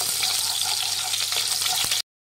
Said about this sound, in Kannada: ಒಂದು ಅರ್ಧ ಈರುಳ್ಳಿ ಹಾಕ್ತಾ ಇದ್ದೀನಿ ಸಣ್ಣದಾಗಿ ಹಚ್ಚಿರೋ ಅಂಥದ್ದು ಈರುಳ್ಳಿ ಫ್ರೈ ಮಾಡಿ